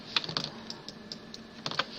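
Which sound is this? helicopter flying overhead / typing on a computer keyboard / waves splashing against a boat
typing on a computer keyboard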